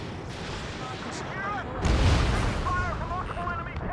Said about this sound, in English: Fire from multiple enemy tanks!